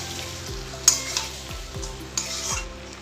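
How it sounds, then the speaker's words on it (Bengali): Chili chicken being stirred into sauce in a frying pan over low flame, several slow sweeping scrapes with a spatula over a soft sizzle, plus a couple of light metallic taps, close up and without speech. "এবার সসের সাথে ভালো করে মিশিয়ে নেব।"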